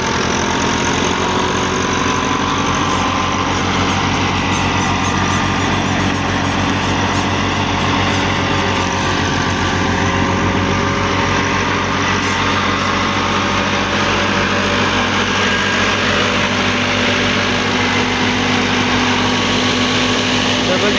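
A 2010 Massey Ferguson 375 tractor drives a 2024 thresher, the engine holding a loud, steady drone with constant mechanical clatter and no change in pace.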